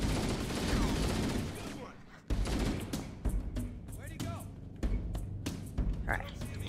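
Rapid bursts of gunfire from the video game Halo: Combat Evolved, loud and dense at first, then repeated shots and impacts in uneven clusters, with a player talking over the action.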